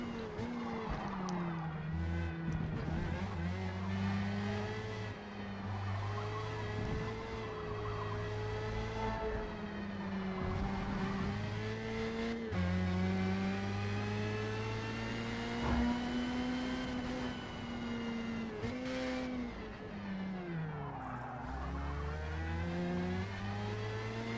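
Formula Mazda open-wheel race car engine in Forza Motorsport at Yas Marina Circuit, a continuous high-revving whine that rises and drops with gear shifts and braking throughout, loud and steady with no talk over it.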